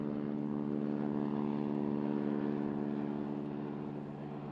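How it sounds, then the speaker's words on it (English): A propeller-driven floatplane, once a US Army liaison aircraft, drones steadily with a constant engine hum and propeller buzz heard from inside or close by, fading slightly toward the end. "This one was originally with the United States Army as a liaison aircraft on wheels."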